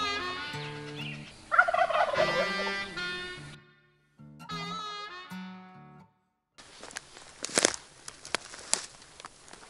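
Wild turkey gobbling as a locator call for turkey hunting: a run of loud, rattling gobbles, a second shorter burst after a pause, then a stretch of rustling, crackling noise.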